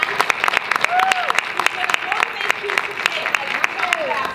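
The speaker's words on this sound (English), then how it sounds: "can we give a round of applause" Round of applause from an audience at a talk, a lively crowd clapping with sharp, distinct individual claps over a sustained patter, a few cheers and voices mixed in.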